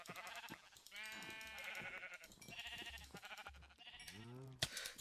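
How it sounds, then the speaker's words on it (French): Blocky sheep from Minecraft bleat in a few wavering calls, mixed with game background sounds and a short sharp effect near the end, with no speech over them. "Des moutons!"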